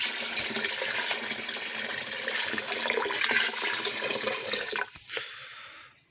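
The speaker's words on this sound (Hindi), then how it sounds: "अब हम इसमें पानी शामिल करेंगे। जितना हमें यानी इसका सालन चाहिए उतना हम इसमें पानी शामिल कर लेंगे।" Water pouring steadily into a pot of boiling mixed dal (moong and masoor) in a pressure cooker, a continuous close splashing rush that tapers and stops near the end.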